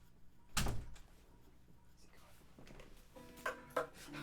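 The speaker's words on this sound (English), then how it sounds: "Make sure you close the door on the way out." A single solid thud of a door shutting nearby, followed by quieter knocks and faint clatter in the room.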